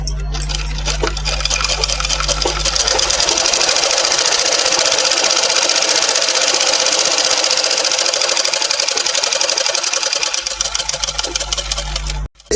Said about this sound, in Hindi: अभी ये हम यहाँ से एक छोटा सा मोड़ लगा के एक छोटी सिलाई डाल देते हैं।